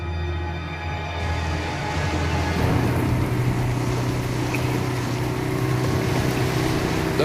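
A motorboat engine runs on water, a loud steady drone that rises slightly after the first second and holds constant with wind and water noise, with no talk.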